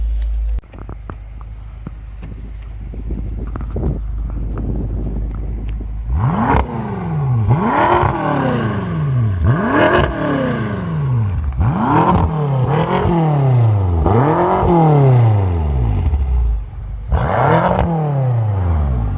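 A 2018 BMW M6 V8 engine revs repeatedly, each rev rising and falling in pitch, six or seven loud bursts over a steady idle rumble inside the car.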